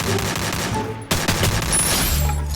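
AK rifle gunfire in a video game, a steady rapid burst of loud shots with a sharp report about halfway through as the firing continues.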